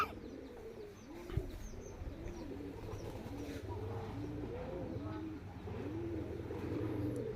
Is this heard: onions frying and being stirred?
no